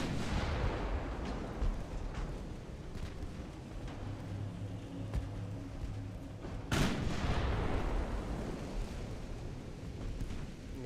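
Torpedo hits on heavy cruisers in a naval warfare video game: heavy, rumbling booms over continuous battle noise, with one sharp, loud blast about two-thirds of the way through followed by a long, decaying roar.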